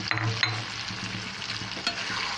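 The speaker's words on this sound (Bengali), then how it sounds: "প্রথমে মশলার সাথে কিছুক্ষণ কষিয়ে নেব বন্ধুরা" Goat brain frying with spices in a pan, a steady close sizzle with stirring scrapes and small pops throughout, no talking.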